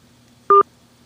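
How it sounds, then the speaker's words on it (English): A mobile phone gives a single short electronic beep, clear and close, against a faint hum. "That's my phone."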